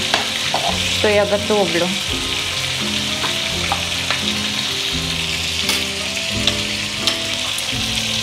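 Schnitzels fry loudly in a pan with a steady, dense sizzle, joined by clinks and scrapes of utensils and a brief spoken phrase.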